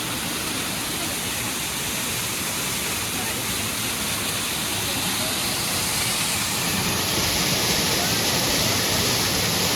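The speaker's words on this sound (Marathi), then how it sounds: "मस्त धबधबा आहे बघा वर." A waterfall pours down on a hillside trail near the Ekvira temple, a dense, steady roaring rush that holds loud throughout and swells slightly toward the end.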